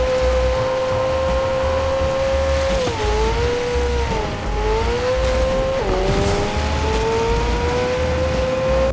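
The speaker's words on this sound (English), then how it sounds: "The engine sound as well, it's also very faithful, like very accurate to the real thing." Real-life licensed car's engine in the Fortnite video game, a loud steady drone that dips and recovers in pitch twice as gears shift, with a hint of tire squeal and no voices.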